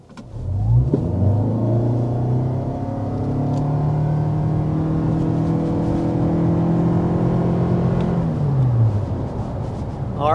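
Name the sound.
car hard acceleration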